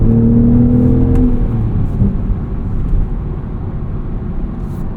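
A 2025 BMW Z4 M40i with a six-speed manual gearbox drones steadily while driving, its engine tone dropping as the revs fall, with continuous road and wind rumble underneath.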